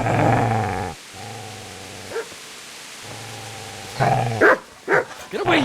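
A dog in Kingdom Come: Deliverance growls steadily and then lets out several sharp barks, loud and close, with no one speaking.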